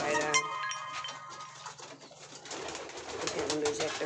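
Pigeons coo in a loft, with low, steady throaty calls rising and falling amid a busy wash of wing shuffles and bird noise, close and continuous.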